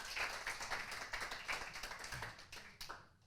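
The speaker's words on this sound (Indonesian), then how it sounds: "Tepuk tangan buat dia." Hand clapping from a church congregation during a Sunday worship service in Ambon, a brisk run of claps fairly close and filling the whole moment, with no talk over it.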